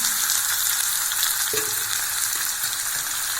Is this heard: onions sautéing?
yes